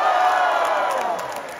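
A live concert crowd cheering and shouting loudly at an outdoor show in Cassano Magnano, a dense roar that fades slightly over a short burst.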